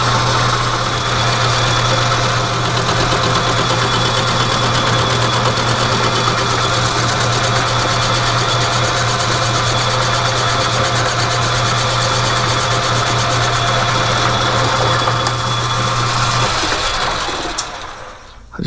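A lathe cuts a rear axle bearing retainer, a steady loud mechanical drone with a constant low hum and a fine high whine running unbroken for most of the span, then winding down near the end.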